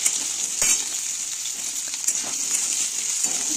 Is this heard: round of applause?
no